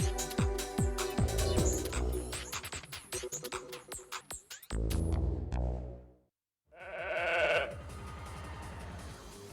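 Sheep bleat repeatedly and loudly, close up, in a busy run of overlapping cries, then a brief silence before one long, drawn-out bleat.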